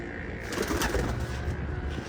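Homing pigeons coo in a loft, soft repeated coos set against a steady, noisy background hum, fairly close and continuous.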